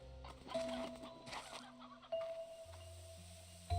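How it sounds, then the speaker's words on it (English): Chickens clucking in the Slime Rancher 2 video game, a few soft, scattered clucks and chirps over quiet game ambience with no talking. "Chickens over here too."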